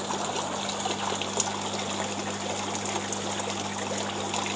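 Water trickles slowly through a tilapia fish tank recirculating aquaculture system, a steady low splashing flow with a constant hum of equipment underneath, even and unbroken throughout.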